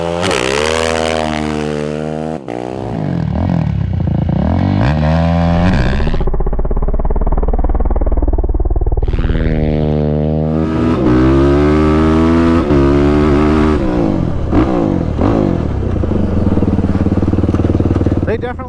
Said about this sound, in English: So I'm going to launch in second gear here, similar to the sand, and see how she does.